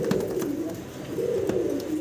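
Black English Carrier Homer pigeons coo in low, rolling phrases that swell and fade continuously, close and fairly loud, with a few faint higher chirps above and no talking.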